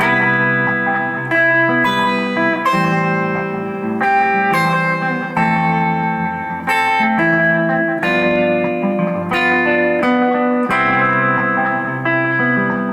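Overdriven electric guitar plays a melodic lick of sustained, bending notes with echo and reverb, loud and continuous with no talking.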